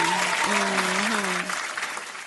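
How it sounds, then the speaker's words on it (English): A burst of crowd applause plays on a podcast, steady and broad across its short length, with a voice talking over the clapping. "So just give them a round of applause."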